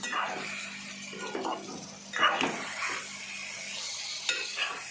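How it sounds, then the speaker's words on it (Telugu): Egg curry being slowly stirred in a pan, soft scraping and gentle sloshing strokes over a faint simmering hiss, with an occasional light clink of a spoon against the pan. "ఇలా నెమ్మదిగా కలుపుతూ ఉండాలి"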